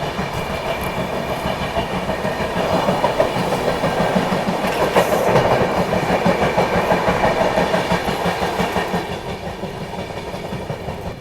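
The Rajdhani Express from Dibrugarh runs on its rails as heard from on board: a loud, continuous rolling rumble with a rhythmic clickety-clack of the wheels over the joints and no talking.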